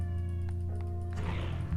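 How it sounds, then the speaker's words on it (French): A cat in the video game Transistor gives a short, clear meow, a single drawn-out call ending in a brief rougher sound, with no talk. "c'est un chat dans le jeu et j'avais toujours pas vu en fait"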